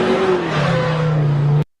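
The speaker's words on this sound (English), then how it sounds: "the prompt for this one is a car engine revs" An AI-generated car engine hums and revs with a rising whine for under two seconds, loud and close, then cuts off abruptly into silence.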